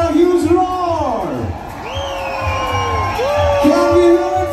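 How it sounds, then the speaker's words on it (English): A large stadium crowd at a football league final roars and cheers with loud whoops and shouts, sustained and dense throughout, while a voice booms over it. "So one round of applause and a huge roar."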